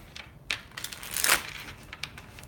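Tarot cards riffled and shuffled nearby, with quick papery flicks and a louder burst of rapid riffling in the middle, no talking.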